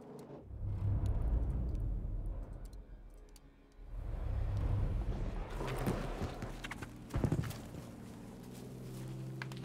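Low rumbling tank engine in Battlefield V, a steady droning growl swelling and fading with clanking and ticking mechanical noise, under scattered battle sounds.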